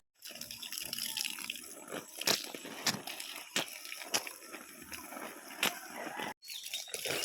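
In the morning, water is poured over plants and thankuni leaves, making a soft, steady splashing trickle with brief louder gushes and one short pause.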